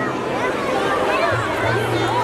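Crowd hubbub at a Ramleela stage performance, a dense, continuous murmur of many voices, with a low steady hum beneath it.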